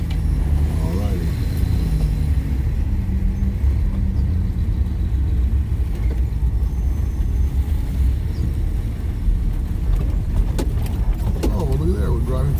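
Car rolling through a parking lot, steady low road rumble and engine drone throughout, with a few faint rattles and voices talking over it near the end.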